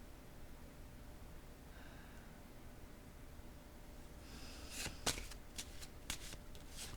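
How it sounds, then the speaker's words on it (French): Tarot cards rustling softly in the hands over a faint background hiss, then a few crisp snaps and flicks as the cards are shuffled and drawn. "je vais piger une carte sur le blocage"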